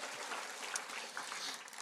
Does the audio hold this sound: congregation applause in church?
yes